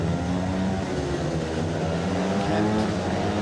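Speedway motorcycles rev hard together at the start line of a Sheffield Tigers versus Leicester Lions Premiership play-off semi-final, a loud, dense, sustained engine roar with layered rising pitches and a commentator talking over it.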